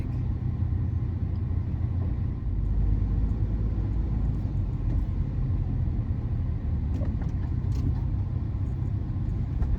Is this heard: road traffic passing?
yes